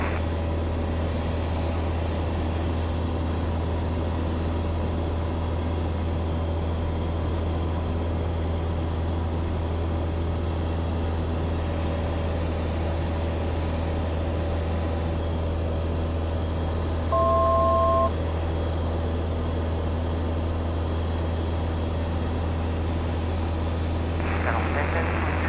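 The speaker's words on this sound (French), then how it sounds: "je m'aligne et je décolle 26 dur" Light aircraft F-GMXO on its takeoff roll from runway 26 on a sightseeing flight in Champagne, a loud steady engine drone with low rumble throughout, cockpit voices talking over it and a brief tone near the end.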